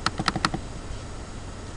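Computer keyboard keys tapped in a quick burst of about half a dozen clicks, then stopping, with a quiet room hum filling the rest.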